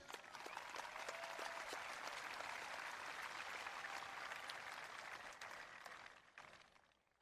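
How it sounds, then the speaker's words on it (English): Graduation ceremony crowd at Anoka High School applauding, a dense, sustained roll of clapping from a large audience that holds steady for several seconds before fading out at the end. "Round of applause, please."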